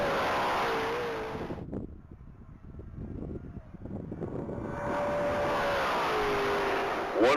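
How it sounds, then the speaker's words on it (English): An orange 2024 GT500 on a top-speed mile run at the Texas Mile: a loud, sustained engine roar with a rising whine that drops away briefly during a gear change, then surges back strongly before a final burst. "On deck is Nick Dixon in his orange 2024 GT500."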